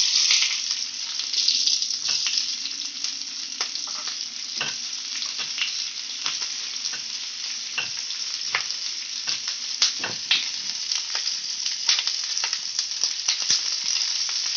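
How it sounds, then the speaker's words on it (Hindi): Onion slices fry in oil left over from frying okra, a steady bright sizzle with frequent sharp crackles and occasional stirring taps, close and continuous throughout. "अब मैं इसमें जो प्याज के स्लाइसेस थे उसको भी हम थोड़ा फ्राई कर देंगे। उसी तेल में हम फ्राई करेंगे जो तेल हमारा भिंडियों से बचा है।"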